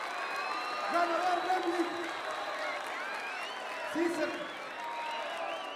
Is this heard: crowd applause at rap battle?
yes